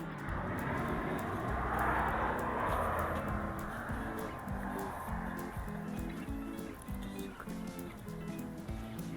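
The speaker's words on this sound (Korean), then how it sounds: "아니 비행기가 이렇게 다닐 줄 알았으면 안 오는 건데" A loud, continuous jet roar as an airplane flies very low overhead at a campsite near Seoul, a low rumble with a hissing wash that swells, lingers and fades slightly toward the end.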